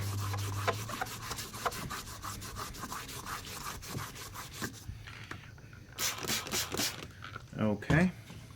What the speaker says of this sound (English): Remember to keep rinsing your sandpaper and the piece you're sanding